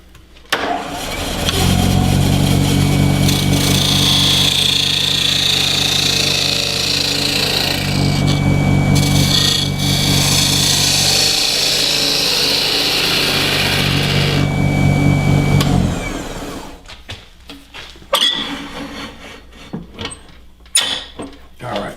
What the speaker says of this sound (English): true up the face here. And I'm just going to use a parting tool for that.